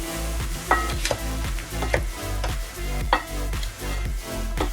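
Seasoned potato wedges are tossed and stirred in a bowl, giving repeated soft scraping and clinking strokes in an irregular rhythm over a steady low hum, with no talking.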